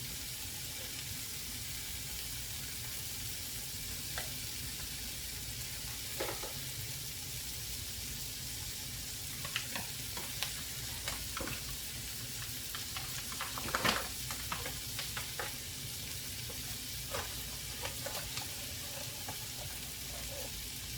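Butter sizzles steadily in a pan for chicken stroganoff, a constant bright hiss with scattered light clicks and scrapes of stirring.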